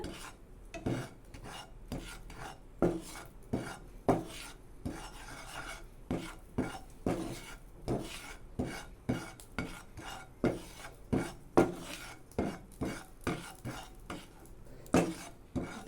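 Flour being lightly dry-roasted and stirred in a pan for pumpkin mushroom soup, heard as a steady run of close, rhythmic scraping and tapping strokes of a spoon against the pan, with no talk.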